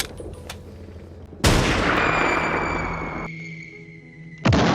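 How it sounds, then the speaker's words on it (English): Sniper gunfire in the 2011 film Rise of the Planet of the Apes: a loud sudden blast followed by a long ringing, slowly fading tail with sustained tones, then another abrupt shot at the end. "Interpol snipers were called to the scene. The snipers' first task was getting rid of Cornelius."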